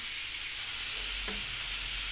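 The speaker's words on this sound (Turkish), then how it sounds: "Soğan güzelce kavruldu." Onions sizzle steadily in hot vegetable oil in a pot, a constant bright hiss with a faint clink partway through; no one speaks.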